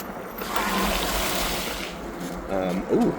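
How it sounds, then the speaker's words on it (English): An e-bike rolls through standing water on a city ride, giving a steady splashing, gushing wash that fills the scene, with a person speaking briefly near the end. "we're going to go through some water here. Hopefully it's not too bad."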